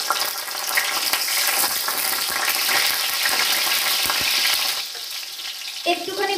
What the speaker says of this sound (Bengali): একটুখানি ভাজা ভাজা করে নিলাম কাঁচা লঙ্কাগুলোকে